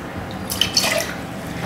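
Homemade coconut tarragon wine is poured into a glass at a bar, making a short, close trickle and splash with a few bright drips, and no one talks over it.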